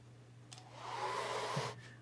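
A hair dryer switches on briefly to dry a watercolor painting, a soft steady airy whir that rises over about a second and then stops, close and faint with no talk.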